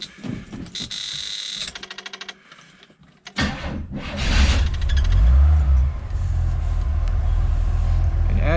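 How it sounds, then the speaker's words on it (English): A 1976 Chevrolet Nova fitted with a tachometer cranks after a few seconds of clatter and catches into a loud, deep rumbling idle that holds steady up close. "Okay, so let's watch this RPM gauge as I start the car"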